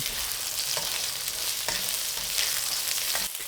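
Golden tofu fries in oil in a hot pan and is briefly stirred. A dense, even sizzle runs throughout, broken by a few light scrapes of the spatula, with no voices.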